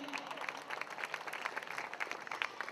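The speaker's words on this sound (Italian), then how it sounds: "scatta l'applauso spontaneo" Spontaneous applause from an audience at a beauty pageant event in Conegliano, a dense steady patter of many hands clapping at moderate distance that holds for the whole moment.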